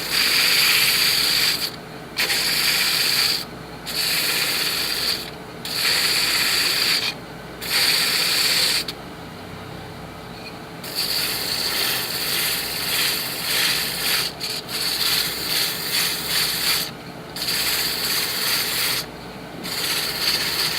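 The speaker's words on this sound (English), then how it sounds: "taking your time and sanding the bottom" Sanding the bottom of a turned wooden tic tac toe box produces repeated rough rubbing strokes in bursts, each lasting a second or two and separated by short pauses, close and fairly loud.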